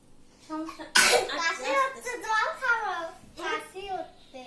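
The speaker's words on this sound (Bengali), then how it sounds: "কাশি হলে জল খেতে হয়?" A young child gives one sharp cough, then makes babbling vocal sounds at close range.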